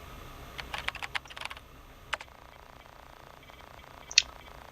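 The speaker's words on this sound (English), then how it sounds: "I literally just used my keyboard to type that." Clicky computer keyboard typing during a No Man's Sky gaming session, a quick burst of keystrokes followed by a few scattered taps and one sharp final click, close and moderately loud with no talking.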